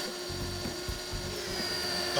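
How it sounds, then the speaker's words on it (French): A flat spade bit bores slowly into a wooden front door, giving a continuous low grinding whir with a faint high whine, close and moderately quiet. "Prenez une mèche plate et percez lentement avec précaution."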